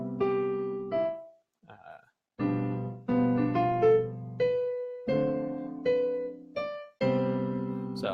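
An alto saxophone melody with accompaniment, composed in Noteflight, plays as a clear synthesized playback of detached notes with steady rhythm and brief gaps, no voices.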